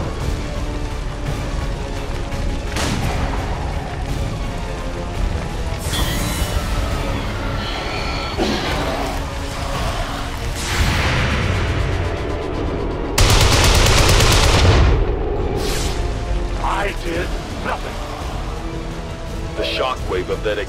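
An explosion rumbles through a city in XCOM 2: War of the Chosen, a loud broadband blast about two-thirds through, layered over a dense game soundscape of rapid gunfire-like crackle and ambient noise.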